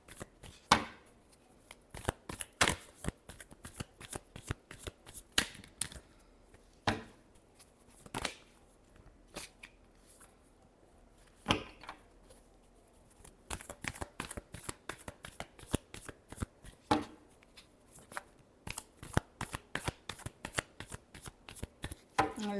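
Tarot cards are shuffled by hand in quick bursts of soft slaps and riffling flutters, repeating steadily with short pauses, close and fairly quiet.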